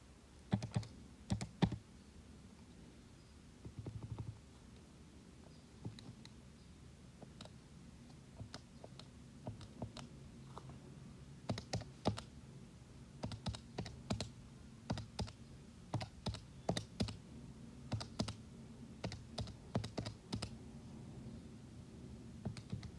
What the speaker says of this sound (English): So give me a second while I type it in.